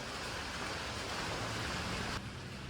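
Steady hiss of rain falling on plastic body panels of a 1984 Honda TRX 200 ATV set out to soak, soft and continuous, cutting slightly quieter near the end.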